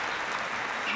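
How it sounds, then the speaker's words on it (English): Audience applause for the presenters at the 2022 S!NERGY International event, a short, dense, even burst of many people clapping indoors, with no voices over it. "let us give a big round of applause to all the presenters"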